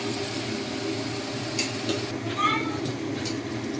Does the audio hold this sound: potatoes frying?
yes